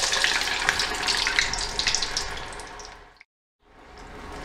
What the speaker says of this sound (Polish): frytki się zaczynają smażać i wytrąca się woda z ziemniaków